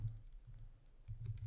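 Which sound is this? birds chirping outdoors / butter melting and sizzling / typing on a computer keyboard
typing on a computer keyboard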